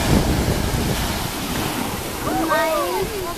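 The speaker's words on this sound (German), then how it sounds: "Wunderbare Wellen heute." Surf rolls in on a North Sea beach at Norddorf on Amrum on a hot day, a steady broadband wash with wind buffeting the microphone, and a voice briefly heard near the end.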